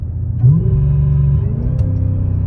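A Cadillac CTS-V engine drops gears on its own as the paddle is held, a loud, close low rumble that briefly swells in pitch around each downshift and then settles into a steady drone.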